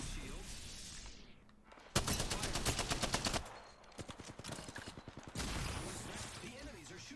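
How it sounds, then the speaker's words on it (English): Enemy gunfire in Apex Legends, Storm Point map: loud bursts of rapid automatic fire in long volleys with brief gaps, close and intense, layered over game sounds and a voice. "The enemies are shooting at me."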